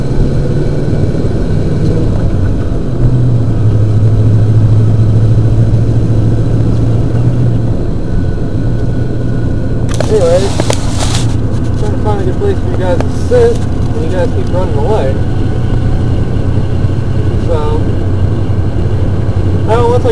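A Kawasaki Mule utility vehicle driving on a gravel road while grouse hunting, with a loud, steady engine drone and rumble throughout, rattling and clatter midway, and someone talking over it.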